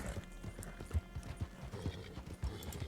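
A horse in the Red Dead Online video game clip-clops along with irregular, fairly soft hoof beats, and a whinny breaks in amid the game's ambient background.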